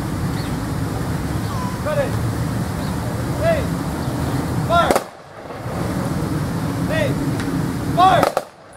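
At an outdoor Memorial Day military honors ceremony, two sharp rifle volleys crack a few seconds apart over steady wind noise, with shouted commands in the background.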